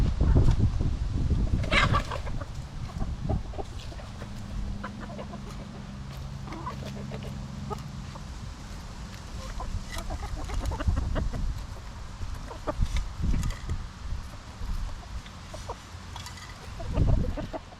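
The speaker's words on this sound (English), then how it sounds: "So I have 14, 12 hens, 2 roosters" A flock of 12 hens and 2 roosters clucking and murmuring close by outdoors, with scattered louder squawks and thumps, a steady busy chatter throughout and no talking.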